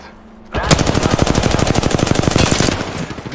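Rapid automatic gunfire in Apex Legends, a loud close burst of fast, evenly spaced shots that starts suddenly and rattles on for about two seconds before cutting off.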